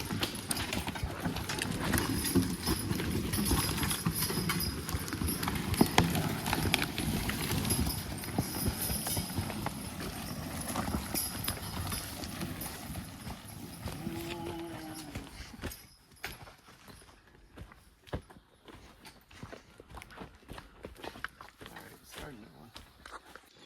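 Logging horses' hooves clip-clop steadily at a walking pace over a rumbling outdoor background, fading quieter toward the end.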